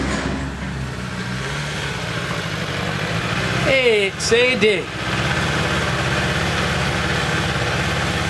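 A Suzuki Bandit 600 motorcycle idles nearby with a steady low engine rumble, while someone speaks briefly in the middle over it.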